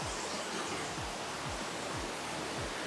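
A waterfall deep in a forest roars as a constant broadband rush of falling water, close and loud, with low thumps recurring beneath it about every half second.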